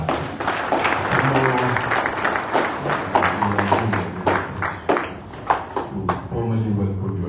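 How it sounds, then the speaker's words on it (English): At a Kano State government ceremony, an audience claps in scattered, uneven bursts, with distinct sharp claps standing out, while voices talk underneath throughout. "A round of applause once again"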